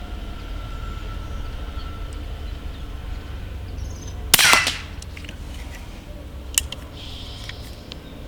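A PP700 Artemis airgun fires a JSB Exact Diabolo pellet on a 50-meter outdoor range, one sharp crack with a brief ringing tail over steady wind and background hiss, followed by faint clicks.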